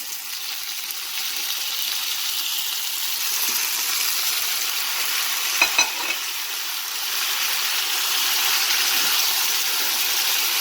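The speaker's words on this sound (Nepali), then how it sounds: "र यसलाई म मजाले भुट्छु" Tomatoes added to browning onion and potato fry steadily in a pan for a Nepali cooked tomato pickle, a continuous soft sizzle with a couple of brief clatters near the middle and no voices.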